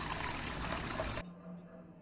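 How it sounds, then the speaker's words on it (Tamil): Water poured into a blended mung dal mixture for bonda batter, a steady liquid pour lasting just over a second before stopping abruptly, leaving a faint low hum. "அடுத்ததாக இது கூடவே முக்கால் லிட்டர் அளவுக்கு வந்து தண்ணி வந்து சேர்த்துக்கலாம்"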